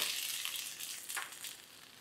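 Cloves, cumin and finely chopped ginger frying in hot oil for an onion malai curry give a steady, close sizzle that holds level throughout, with no voices.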